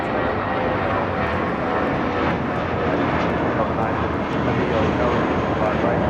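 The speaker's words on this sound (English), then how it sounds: "This is Spirit Airlines 462 taking off to New Orleans on an A320" A Spirit Airlines Airbus A320 taking off at LAX gives a steady, fairly close jet engine roar that holds evenly throughout, with speech faintly mixed in.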